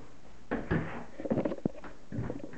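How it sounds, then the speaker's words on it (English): A bedroom door in a house is pushed shut, with shuffling, a thud and a sharp knock-like latch click, close and moderately loud, followed by faint handling noise. "Let's shut the door."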